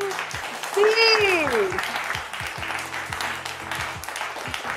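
Audience clapping during a Saraswati Puja quiz-show event, a burst of applause under a host's voice and a rising tonal effect, fading into scattered claps.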